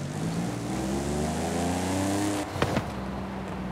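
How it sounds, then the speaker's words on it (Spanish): Car engine in Forza Horizon 5 revving loudly and steadily on a road drive, a sustained roar with rising harmonic pitch, then a brief sharp burst and shift near the end before settling back. "qué fuerte suena ahora el coche"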